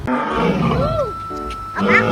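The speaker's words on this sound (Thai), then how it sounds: "สิงโตร้องเสียงดังมากเลย" A lion roars at a zoo, a loud drawn-out call over steady crowd noise, with people talking and a voice throughout.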